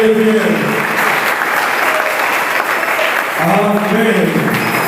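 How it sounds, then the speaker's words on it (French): A church congregation applauds for Jesus in steady, dense clapping that fills the room without pause, with a voice speaking over the applause at the start and again near the end. "Est-ce qu'on peut acclamer pour Jésus?"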